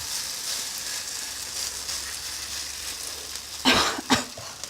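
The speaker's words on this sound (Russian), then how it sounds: "Теперь мы берем ложку и кладем на сковороду кабачки." Zucchini batter spooned into an oiled frying pan sizzles with a soft, even hiss, interrupted near the end by two short, sharper bursts of sound.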